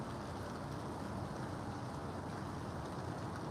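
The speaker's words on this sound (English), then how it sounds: "You might be able to hear in the background the gentle rain falling on the roof" Steady, gentle rain patters continuously with a soft, even hiss and no voices, like drops falling on a roof nearby.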